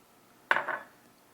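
Olives go into a bowl of potato salad with a single sharp clink against the dish, a brief close tap that rings out and fades in an otherwise quiet kitchen.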